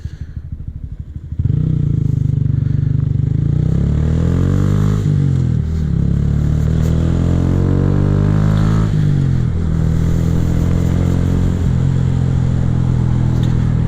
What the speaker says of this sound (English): now after the bike warmed up a little bit, the RPM's a little faster